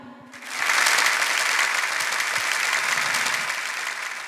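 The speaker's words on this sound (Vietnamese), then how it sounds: "hãy cùng dành một tràng pháo tay thật lớn hơn nữa để cùng chúc mừng hạnh phúc cho hai" Guests at a Mường ethnic wedding in Lạc Sơn break into loud, sustained applause for the bride and groom, a dense clapping wash from a crowd that holds steady for several seconds.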